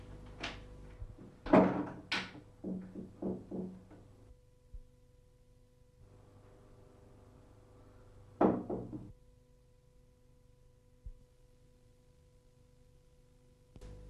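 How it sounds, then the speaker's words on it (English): A rehung wooden door with replaced hinge pins being swung and shut, giving a quick cluster of knocks and clunks, then a pause before another single thud and a faint tap, all fairly close in a quiet room. "Replace the hinge pins and test the door"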